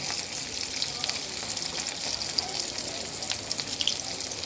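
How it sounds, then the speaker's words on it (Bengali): Rohu fish sizzles steadily in hot oil in a pan, a continuous close crackling fry with small spitting pops throughout. "তেল গরম হয়ে গেছে এখন মাছটা ছেড়ে দিচ্ছি"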